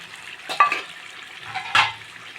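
Fried potatoes tumble into a pan of Bengali chicken curry with fenugreek, giving two short bursts of sizzle and a clatter against the pan over a low steady frying hiss.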